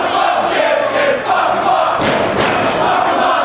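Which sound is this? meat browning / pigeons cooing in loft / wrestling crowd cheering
wrestling crowd cheering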